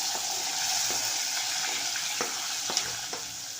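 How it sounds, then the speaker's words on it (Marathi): Finely chopped onion hits hot oil with mustard seeds, cumin, asafoetida and curry leaves, giving a loud, even sizzle marked by several light ticks and scrapes of stirring. "एक मोठा कांदा बारीक चिरून घालत आहे"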